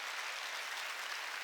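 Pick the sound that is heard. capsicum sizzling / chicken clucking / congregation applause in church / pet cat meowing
congregation applause in church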